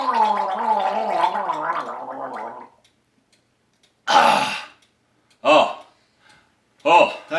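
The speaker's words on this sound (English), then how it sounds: "Maybe if I gargle I can get my voice back" A person gargles water in three short wet bursts after a stretch of croaky, strained talking, the gurgles separated by brief silences.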